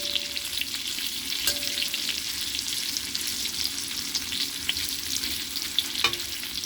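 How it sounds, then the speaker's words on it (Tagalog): Ingredients sizzle steadily in a hot pan while being sautéed for a lechon baboy dish with winter melon and dried mushrooms, with occasional clinks of a utensil stirring close by. "Gisan nyo lang po siya ng kaunti"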